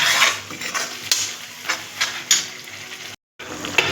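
Spices sizzle in a hot pan as a spoon stirs and scrapes in regular strokes, with a brief silent gap near the end.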